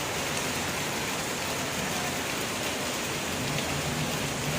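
Heavy rain pours steadily at an Odisha village home, a dense, even hiss of drops on surfaces that stays constant throughout with no talking.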